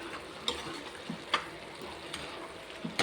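Onions fry in a pan with a steady low sizzle, broken by a few sharp clinks and stirring scrapes at irregular intervals.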